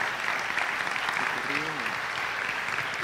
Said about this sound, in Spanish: le damos un buen aplauso a Aníbal esta noche